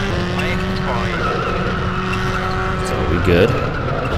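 A rally car drifts and slides on dry tarmac in the WRC II Extreme video game at the Monte Carlo rally, with a steady loud engine drone, sustained tyre squeal and a swell near the end, under a voice.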